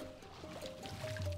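A game goat splashing into water in Goat Simulator, a short wet sploosh with liquid burbles and low game sound under it, moderately quiet.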